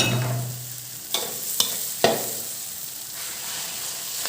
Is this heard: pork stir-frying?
yes